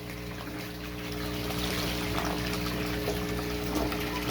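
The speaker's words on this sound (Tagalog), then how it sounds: "Dito tayo nagpapasok ng tubig. Galing deep well yan." Deep-well water pouring into a concrete catfish tank, a continuous splashing rush over a steady mechanical pump hum, growing slightly louder partway through.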